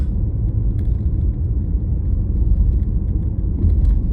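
A car driving on the road toward sunset gives a steady, loud low rumble of engine and tyre noise from inside the cabin, unbroken throughout.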